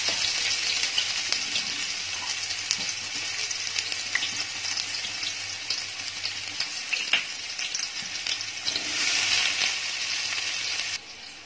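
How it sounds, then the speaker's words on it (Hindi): Onions frying in a pan for veg pulao, a loud, steady hissing sizzle with occasional stirring scrapes, cutting off abruptly near the end. "तो ये प्याज को थोड़ा सा फ्राई करना है, बहुत ज्यादा डार्क ब्राउन नहीं करना है।"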